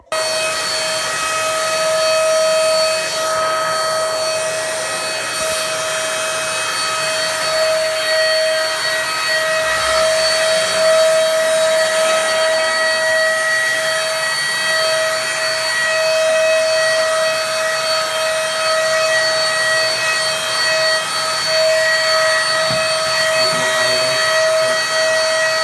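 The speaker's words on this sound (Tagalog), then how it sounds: "Manglimpyo ko karon guys. Vacuum ko na." A vacuum cleaner runs continuously for about 25 seconds while a room is cleaned, a loud, steady roar with a constant high whine and no voices.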